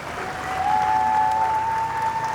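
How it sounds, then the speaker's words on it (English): A large outdoor crowd applauds Nancy Reagan at Ronald Reagan's funeral procession in June 2004, steady dense clapping heard at a distance with a faint thin tone running through it. "Tremendous applause for"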